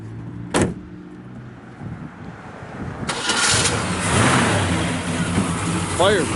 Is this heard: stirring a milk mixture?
no